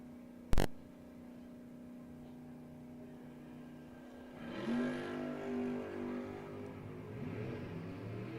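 Drag race cars at a no-box 660 shootout, including a Dodge Dart, idle at the start line, then launch around the midpoint with a rising engine roar that carries on to the end after a brief sharp bang near the start.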